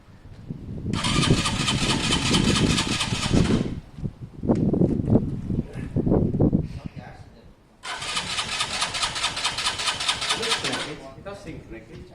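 A Keeway motorcycle engine cranks and tries to start in two long bursts of loud starter whirring, separated by a short gap where people speak nearby.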